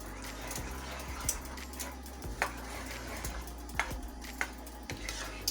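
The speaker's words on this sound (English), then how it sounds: "I'm also going to add in the juice and all. And give it a nice stir." A spoon stirs canned Rotel tomatoes and their juice in a pan over medium-low heat, giving soft wet scraping and scattered clinks over a low steady hum.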